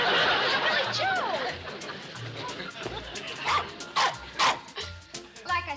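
Several dogs bark and yip with whimpering yelps among them, a busy, noisy mix. The barks come in sharper, louder bursts toward the end, and voices seem to run underneath.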